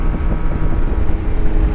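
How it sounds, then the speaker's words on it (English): Loud, steady wind roars and buffets through the open cabin of a 1991 Honda Beat convertible on the move, with engine drone blended underneath and no voices. "Definitely get some wind coming in from the center, standard convertible style"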